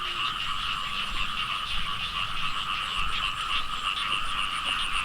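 Frogs croaking in flooded rice fields after morning rain, a dense, continuous chorus of overlapping calls that fills the background steadily throughout.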